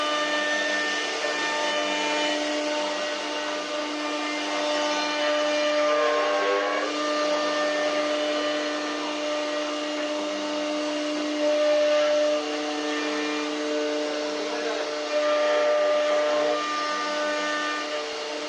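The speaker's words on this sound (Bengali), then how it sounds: "সিএনসি মেশিন স্বয়ংক্রিয়ভাবে কাজ শুরু করে প্রোগ্রাম অনুযায়ী ব্যাটিং টুলটি বিভিন্ন দিকে ঘুরতে এবং সরতে থাকে" An automatic CNC machine carving a design into wood, its spindle giving a steady high whine with shifting tones as the cutting tool moves, constant and close throughout.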